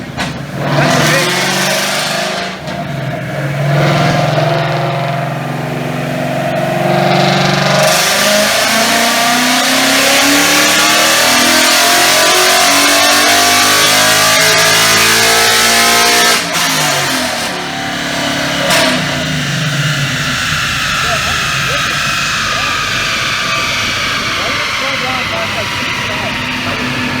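A procharged 2018 Hot Wheels Camaro roars on a dyno, with loud sustained full-throttle pulls, rising engine pitch, a brief drop in power, then a second long pull and a blow-off as it winds down, with voices around it.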